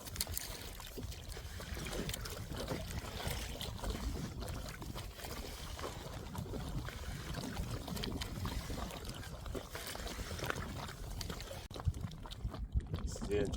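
A paddle works a small boat across choppy water in crazy strong mountain wind that keeps pushing it back, with splashy strokes and trickles buried under a constant roaring wind rumble throughout.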